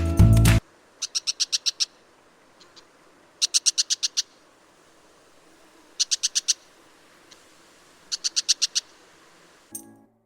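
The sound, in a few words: brown shrike call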